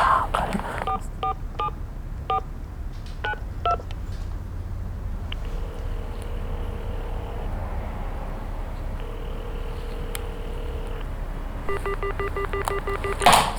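Someone in a hotel dials a telephone number: quick clusters of keypad tones, then long, evenly spaced line tones, followed by another rapid run of keypad beeps near the end, over a faint background hum.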